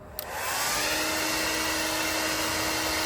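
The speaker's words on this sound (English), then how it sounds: "So take a hairdryer, put it on high heat." A hair dryer on high heat switches on with a click and runs at a loud, steady whine and rushing blow, close and continuous.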